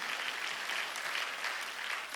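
A church congregation at a Sunday worship service breaks into applause, a dense, even patter of many hands clapping at a moderate, slightly distant level with no talking.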